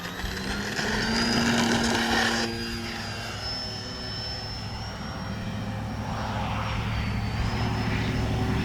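An Arrows RC Tecnam model airplane flies a touch and go, its electric propeller motor whining loudly, then dropping in pitch as the throttle eases and droning on steadily farther off.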